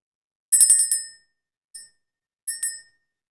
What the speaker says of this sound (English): we're just going to ring the bell, clear the energy